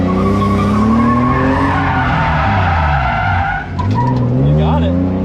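A Honda CRX with a B18 engine circles a skid pad, its tires squealing in long wavering howls over a revving engine, loud and close, with a voice speaking briefly underneath.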